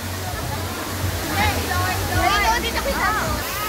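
Steady rushing roar of the waterfall at Balagbag Falls in Real, Quezon, set among many rocks, continuous and close, with a person talking over it.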